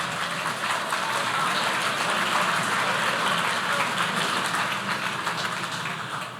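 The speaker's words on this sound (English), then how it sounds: "Please give yourselves a huge round of applause" Sustained applause fills the room at an awards ceremony, a dense, steady wash of clapping from a large audience lasting throughout without letup.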